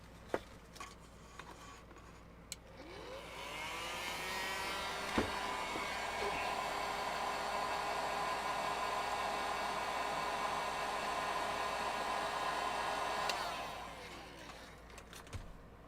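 A heat gun blows steadily for about ten seconds while shrinking heat-shrink tubing over soldered wires on an RC model motor install, a close whooshing hiss that rises, holds, then cuts off, with small clicks around it.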